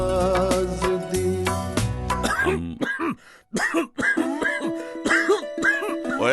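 A man coughs and clears his throat in a Hindi cough syrup commercial, a few harsh rasping bursts following a musical jingle, with voices around them.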